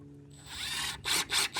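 A power drill drives exterior-grade screws into pressure treated wood for a rolling garden bed, a short rising whir followed by two quick bursts of high grinding.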